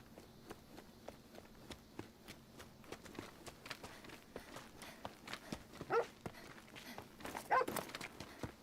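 A dog or wolf moving in the video game Beast of Reincarnation, quick faint padding footfalls in an uneven trot, with a couple of sharper louder hits near the end.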